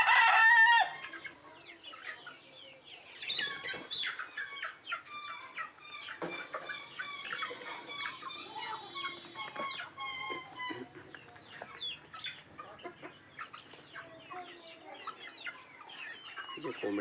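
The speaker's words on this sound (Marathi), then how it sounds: "हे आपले कॉकरेल आहे मित्रांनो." Native village chickens, Gavran country fowl, with a cockerel: a loud crow opens, then busy overlapping clucks and calls continue close by throughout.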